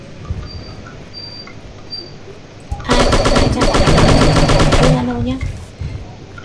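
Rapid automatic AK rifle fire in the shooting game Striker erupts in a loud sustained burst of about two seconds, preceded and followed by game beeps and quieter effects, with a voice speaking around it.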